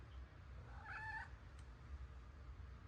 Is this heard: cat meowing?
yes